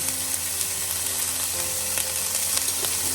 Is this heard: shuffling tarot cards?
no